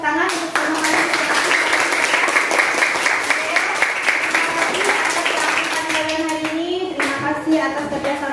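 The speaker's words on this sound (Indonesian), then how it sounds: "Kita berikan tepuk tangan untuk semua kalian." A class of students applauds together in a classroom after a group lesson, with dense, loud, steady clapping and children's voices mixed in, tapering off near the end.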